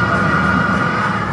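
An ambulance siren blares in heavy traffic as a steady, loud, continuous high tone with no pause, under constant road and engine noise.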